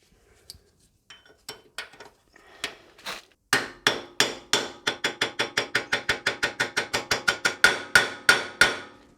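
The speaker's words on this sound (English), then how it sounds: "We're going to take the 50mm bearing and seal driver tool, and the knuckle race will slide over that nicely and we can use that to drive it in." A steel knuckle bearing race for a Toyota Land Cruiser swivel hub is hammered in with a 50mm bearing and seal driver tool, first a few scattered taps, then a long steady run of sharp, ringing metallic blows close up.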